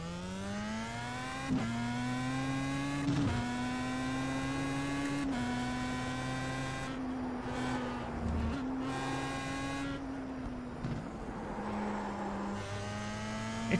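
Race car engine in the iRacing sim holding a steady high whine with harmonic tones, rising through revs and dipping at several gear shifts, loud and continuous throughout with no talking.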